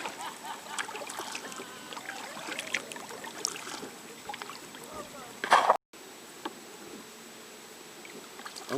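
A canoe is paddled on the Great Stour against an outgoing tide, soft watery dips and splashes coming in a loose rhythm under quiet outdoor ambience, with a brief louder knock partway through.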